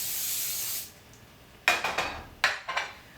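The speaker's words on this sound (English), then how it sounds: "I'm gonna use a really great coconut oil spray" Coconut oil cooking spray hisses steadily into a pan for about a second, followed by a few sharp clatters of a pan or dish being handled, close up with no talking.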